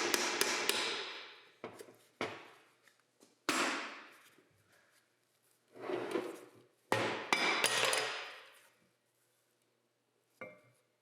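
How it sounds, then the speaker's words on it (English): Hammer striking the output shaft of a Roxor transfer case during a rebuild, sharp metallic blows in irregular bursts, each ringing briefly before fading, separated by quiet gaps. "Strike output shaft in both directions to move bearing cups outward."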